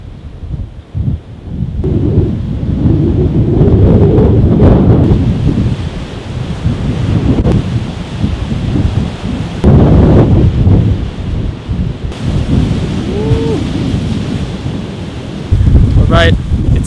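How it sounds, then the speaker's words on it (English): Strong coastal wind roars and buffets the microphone while waves break along a stormy Sardinian shore, loud and continuous with gusty surges throughout. "Looks like waves and wind are here though."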